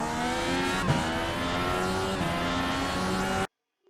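A car pulls hard at full throttle in first gear, its engine note loud and steady with rising harmonics for about three and a half seconds before cutting to sudden silence.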